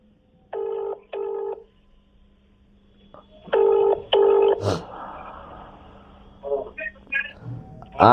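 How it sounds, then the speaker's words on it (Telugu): Electronic telephone keypad tones beep in short pairs and quick bursts as a number is dialed, with a faint steady hum and a brief click between them. "కాబట్టి ఫస్ట్ మరి రామన్న కోర్టులో పనిచేసి రిటైర్ అయినటువంటి బ్రదర్కు ఫోన్ చేద్దాం."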